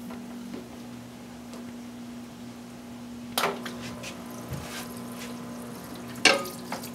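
A parts washer pump switched on for cleaning RC car parts, sending a steady faint spray and trickle of liquid, with a few sharp clanks and knocks from handling partway through.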